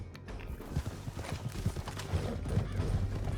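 Horse hooves galloping in Red Dead Redemption 2, a rapid rhythmic clip-clop of several riders' mounts pounding along a canyon trail, moderately close and steady throughout.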